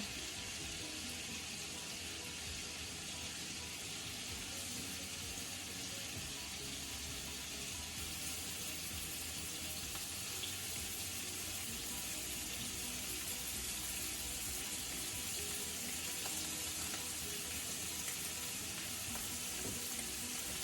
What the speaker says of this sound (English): we're just going to put the scallops in there with the salted and peppered side down to get a nice sear on them